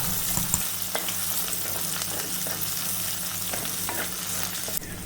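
Crushed garlic and ginger sautéing in a pan for Kerala-style dal curry, a steady close sizzle with occasional scraping stir strokes, heard alone throughout.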